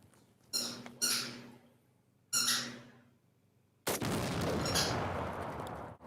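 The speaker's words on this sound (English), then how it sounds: "Let's get a nice big explosion, maybe a little shrapnel going." An explosion on video: a few sharp cracks and bangs, then a sustained roaring blast with debris noise that lasts about two seconds before cutting off.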